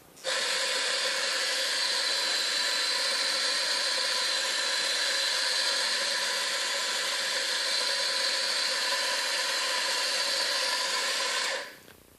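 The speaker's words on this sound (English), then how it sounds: "Let's turn the grinder on." An espresso-bar coffee grinder running while grinding beans for a latte: a loud, steady, high whirring drone that starts abruptly, holds for about eleven seconds, then winds down.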